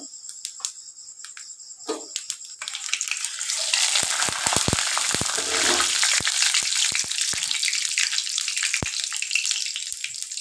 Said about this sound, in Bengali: এবার এর মধ্যে একটু কালো জিরা ফোড়ন দিয়ে দেব